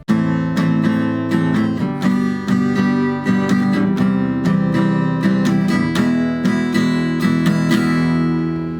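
A guitar strums a steady pattern at 160 beats per minute, mixing down and up strokes in a driving, evenly repeating rhythm, close and loud with no talk over it.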